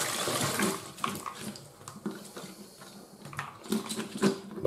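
Brine poured out of a jar of caper berries, an uneven trickle and splash of liquid in short bursts with a few knocks and clinks, close and fairly quiet.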